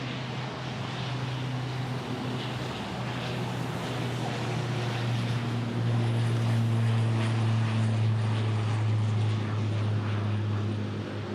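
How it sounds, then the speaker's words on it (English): Pilatus PC-12 turboprop climbing out from Dallas Love Field, a steady droning propeller hum with strong low tones, growing slightly louder over the span, heard from a distance with wind noise and no talk. "PC-12 climbing."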